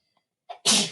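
A single sharp sneeze bursts out close by after a brief quieter intake of breath, loud and broadband, in an otherwise quiet room.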